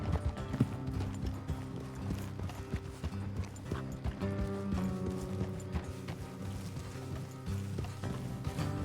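Horses clip-clop in Red Dead Redemption 2, a steady run of hoofbeats under a continuous game score, with an occasional snort or whinny.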